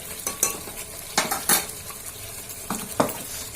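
A spoon scrapes and clinks against a bowl in irregular bursts while oil is stirred into a chicken momo mixture, the sounds close and fairly crisp with quiet gaps between strokes.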